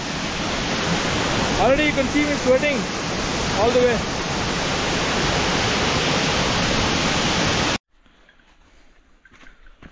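Clear mountain stream water rushing down a rocky course on the Horton Plains hiking trail in Sri Lanka, a steady loud broadband wash under a voice, then cutting off abruptly near the end.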